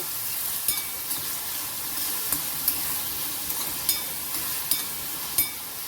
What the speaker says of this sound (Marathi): कांदा आपल्याला छान थोडा परतून घ्यायचा आहे